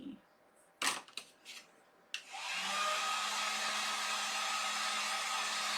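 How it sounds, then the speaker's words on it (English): A heat gun drying paint on Christmas lettering: a few soft clicks and handling knocks, then the gun switches on with a steady loud whooshing blow that continues to the end. "So I'm going to go ahead and dry my M and my E."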